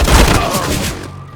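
Grenade blast in Counter-Strike: Global Offensive, a loud booming burst with dense low rumble that decays over about a second, with gunfire-like crackle around it.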